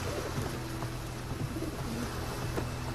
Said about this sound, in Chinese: 这鸽子真能送信？